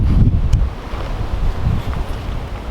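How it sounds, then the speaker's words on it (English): Strong outdoor wind buffets a microphone in a garden, loud low rumbling gusts that rise and fall continuously, with no talk. "the wind's coming up"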